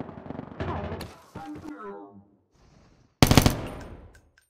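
Cordite gunfire in a first-person shooter: a short burst of rapid shots, then a thud, a quiet gap and one loud, sharp blast that rings out and fades, with no voices.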